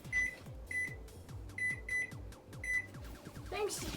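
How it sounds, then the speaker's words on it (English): Beeps from a kitchen timer being switched on while making Santa cookies, a bright short tone repeating about five times in an uneven rhythm over a low, pulsing background hum, close and moderately loud, ending in a rising squeak. "We're gonna turn on our timer."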